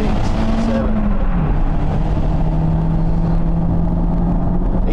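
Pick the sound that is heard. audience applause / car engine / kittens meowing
car engine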